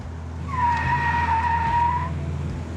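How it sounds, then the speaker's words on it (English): A 1968 muscle car with a 396 big-block engine squeals its tires in one loud, sustained screech of about a second and a half, over a low engine rumble. "squeal the tires there"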